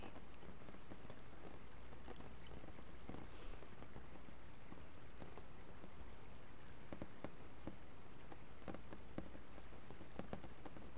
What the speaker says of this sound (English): listening to the pitter patter of the raindrops